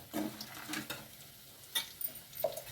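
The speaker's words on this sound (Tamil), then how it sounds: "பட்டவத்தெல்லாம் பாருங்கள் கலகலன்னு சவுண்டு கேட்குது" Mustard seeds and spices crackle and pop in plenty of hot oil in a pan for a drumstick-leaf chutney, giving scattered, irregular sharp snaps close by with quiet gaps between.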